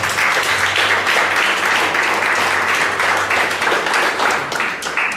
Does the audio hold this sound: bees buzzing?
no